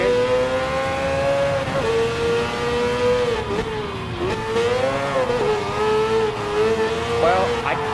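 Mazda 787B rotary-engined race car in Gran Turismo Sport, a loud steady high-pitched rotary howl heard from on board, rising and dipping with gear changes and throttle for the whole stretch, with faint voice underneath.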